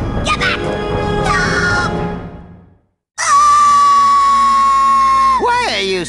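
Loud, close screams ring out in a Psychonauts cutscene from the PlayStation 2 game. A long, sustained, piercing cry follows an earlier burst of shouting.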